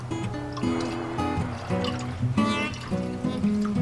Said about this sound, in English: It's a sweet pour.